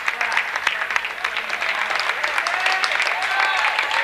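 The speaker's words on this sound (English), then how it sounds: "big round of applause for Mater Christi" A crowd at a youth basketball championship game claps steadily and continuously, a dense patter of hands at close range with no pauses.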